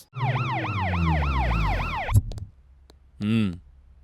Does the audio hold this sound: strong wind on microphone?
no